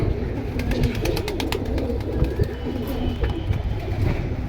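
Red-patti military pigeons coo in a dense, continuous chorus at a pigeon sale, loud and close, with other birds chirping faintly above.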